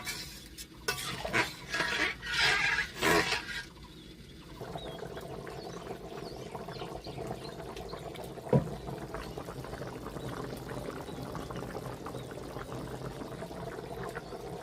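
Broth is poured into a pan of katla fish and potato curry, with a few seconds of splashing bursts followed by a steady, even simmering hiss and one sharp clink near the end, no talking.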